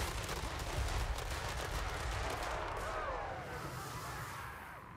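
Repeating shotgun fire from Malakai Makaisson's troops in a Warhammer battle game: a dense, continuous stream of rapid cracking shots and battle din, loud and steady before easing slightly near the end.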